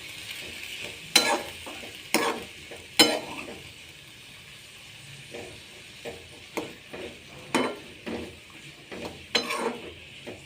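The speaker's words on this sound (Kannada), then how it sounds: "ಬರೀ ಎಣ್ಣೆಯೊಳಗೆ ತಾಳಿಸೋದು ಇದನ್ನು" Cluster beans frying in plain oil without water, low sizzle punctuated by repeated scraping knocks of a spatula against the pan.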